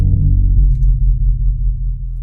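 Booming 808 bass in a drill beat made in FL Studio, with clashing notes that slide into each other, a loud, deep, sustained low tone whose pitch bends and shifts and that plays alone.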